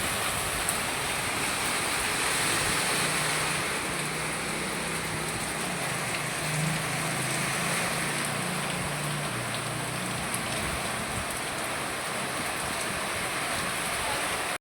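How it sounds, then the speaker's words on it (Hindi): Heavy morning rain pours down in a dense, unbroken hiss that holds steady and fairly loud for the whole stretch, with no clear talking. "सुबह देखी झमाझम बारिश हो रही है।"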